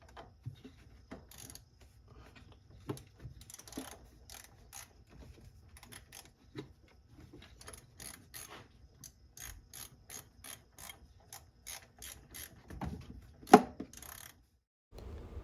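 A hand ratchet clicks in quick, faint bursts while snugging a thermostat housing bolt on a 2011 Subaru Impreza 2.5i, with pauses between strokes and a light clunk near the end.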